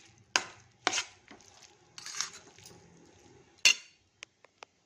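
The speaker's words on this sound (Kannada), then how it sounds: "ಇಲ್ಲಿ 3 ದಪ್ಪ ಮೆಣಸಿನ್ಕಾಯಿ ತೊಗೊಂಡಿದ್ದೀನಿ. ಇದನ್ನು ಸಣ್ಣದಾಗಿ ಕಟ್ ಮಾಡ್ಕೊಳ್ತೀನಿ" A knife finely chops bell peppers on a board, with several sharp close chops spaced irregularly, then a few lighter taps near the end.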